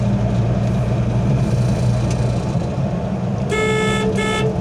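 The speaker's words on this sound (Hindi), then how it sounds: "और ये देखिए यहाँ पे हॉर्न देके ऐसी जगहों पे ख़ास तौर से।" A car horn sounds twice in quick succession, a longer honk then a short one, over steady loud engine and road noise from inside a car on a single-lane highway.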